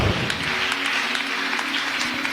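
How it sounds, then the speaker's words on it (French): A church congregation at an evening worship service claps and cheers in a loud, continuous wash of applause. "Est-ce qu'on peut acclamer le Seigneur?"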